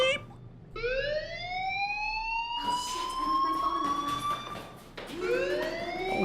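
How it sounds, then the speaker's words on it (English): A blaring fire alarm in the Life is Strange video game, rising wailing tones that restart several times in loud, insistent sweeps with faint game ambience beneath. "Do you hear that fire alarm? That means you should be outside."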